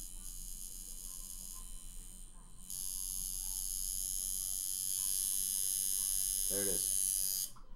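A tattoo machine turned down to about one volt runs with a steady electric buzz, loud and close and continuing throughout, with a brief spoken remark near the end.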